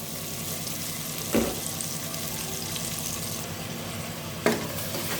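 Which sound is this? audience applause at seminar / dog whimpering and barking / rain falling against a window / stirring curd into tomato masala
stirring curd into tomato masala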